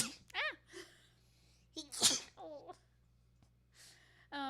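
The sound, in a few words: sneeze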